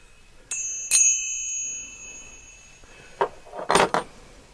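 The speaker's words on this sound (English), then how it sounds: "These are spurs from the back of cowboy boots. They make wonderful little finger cymbals." A pair of cowboy boot spurs struck together as finger cymbals gives two bright, ringing metallic chimes that hang and fade, followed by a few shorter, duller clinks near the end.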